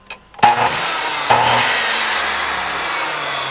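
A miter saw (compound angle cutter) with an adjustable base plate spins up and cuts through wood. The blade bites sharply twice, and a loud, steady whine holds for the rest of the stretch with no talking.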